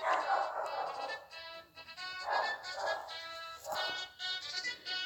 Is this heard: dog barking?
yes